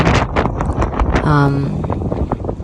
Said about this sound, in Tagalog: Sobrang hangin din